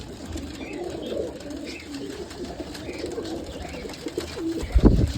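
Pigeons coo in low, soft, repeated phrases at close range on a pigeon keeper's premises in İzmir, with a louder thump or bump near the end.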